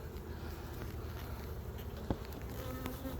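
Honeybees buzz steadily around a newly installed hive outdoors, a soft continuous drone with a few bees passing close, and no talking.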